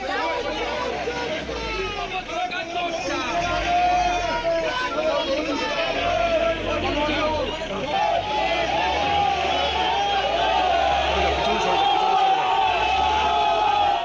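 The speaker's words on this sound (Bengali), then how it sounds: "তৃণমূল নেতাকে লক্ষ্য করে তোলা হয় চোর চোর স্লোগান" Dense, steady crowd noise of many voices shouting slogans at an arrested Trinamool municipal chairman outside Ashoknagar police station, a continuous loud hubbub throughout.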